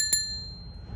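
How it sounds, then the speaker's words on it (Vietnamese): The bell on a Japanese Yamaha power-assisted electric bicycle rings once with a bright, clear ding that decays over about half a second against faint background noise. "cái chuông rất là lạ"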